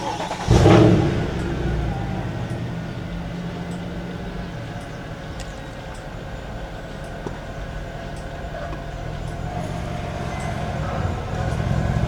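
Mercedes-Benz W212 E63 AMG V8 starting with a loud burst, then idling steadily and close by for the rest, a deep continuous engine rumble with no talk.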